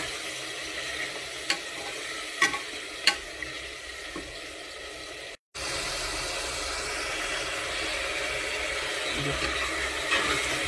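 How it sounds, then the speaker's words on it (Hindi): Ginger garlic paste fries with well-browned onions in a pan, a steady broadband sizzle carried under scattered utensil scrapes and taps, with a brief gap midway before the frying resumes. "वर्तमान ये अदा रसुण पेस्ट पकेवा। या को किसी समय भाजवा।"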